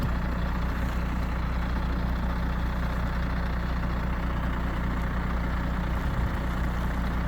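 A snow plow truck idles outside during a snowstorm, a steady low diesel rumble that stays constant and close throughout with no speech.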